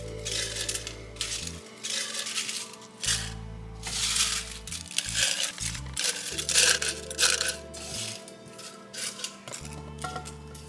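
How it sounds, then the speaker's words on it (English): Dried yaupon holly leaves crushed inside a jar, a run of dense crackling, crunching and rattling bursts close to the microphone, with a low background hum that cuts in and out and no talking. "We're gonna go ahead and put these in a jar and give them a good crush."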